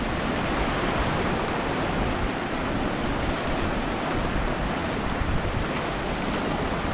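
Sea waves washing on a shore during a fishing outing, a continuous broadband roar of surf at moderate level, steady with no distinct breaks and some wind noise mixed in.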